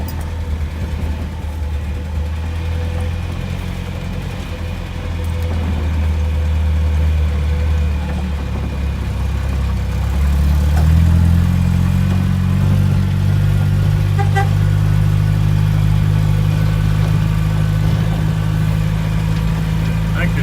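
An International Scout 80 engine driving in second gear, a steady low rumbling drone that deepens and strengthens midway as it pulls, with someone speaking over it.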